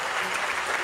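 Brief burst of audience clapping at a 1998 anniversary ceremony of Pousada do Rio Quente hotel, a steady wash of many hands at moderate distance, cut short.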